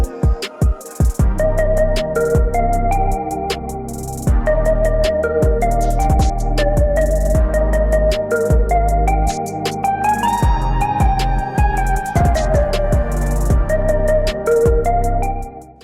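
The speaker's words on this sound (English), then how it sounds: "450 for the Orchestrion roll, and the music sounds like this." Orchestrion roll music from Final Fantasy XIV: a full, dense orchestral arrangement with deep bass, sustained harmonies and rhythmic accents, playing loud and continuous with no talking.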